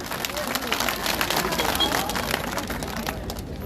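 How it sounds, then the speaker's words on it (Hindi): Rally audience in Shimla clapping and cheering, a dense continuous wash of applause and crowd noise lasting throughout, with voices mixed in. "आपको अच्छा लग रहा तो ताली बजाइए।"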